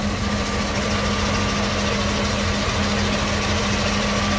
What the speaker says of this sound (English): the engine's hardly even moving, idling very happily, no strange sounds